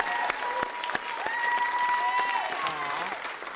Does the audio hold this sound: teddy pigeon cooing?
no